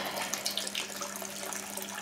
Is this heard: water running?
yes